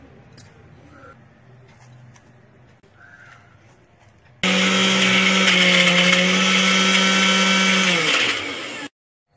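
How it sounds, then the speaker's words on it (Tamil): After a quiet room with faint sounds, an electric mixer grinder grinding coriander leaves suddenly roars to life, running loudly and steadily for several seconds before shutting off abruptly. "இதை வந்து நம்ம மிக்சியில அரைச்சிக்கலாம்."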